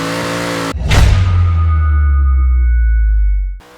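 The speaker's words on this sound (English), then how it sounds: "delivered by a beautifully V8 engine that has that nice little off-stroke sound" A powerful V8 American muscle car engine in the video game Forza Horizon 3 roars up in a loud rev, holding a deep rumbling drone for a few seconds before cutting off abruptly.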